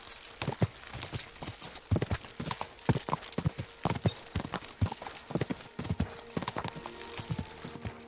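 Rapid hoofbeats of a galloping horse in the video game Kingdom Come: Deliverance II clatter in a steady rhythm, close and loud, with a brief whinny and some background game sounds.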